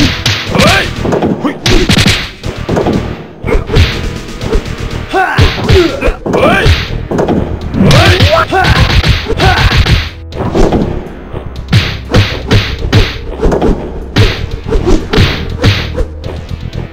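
Fighting in the Street Fighter The Movie video game, Akuma versus Kawada, a loud dense stretch of thumping punches, whacks and swooshes in rapid irregular bursts with occasional shouts.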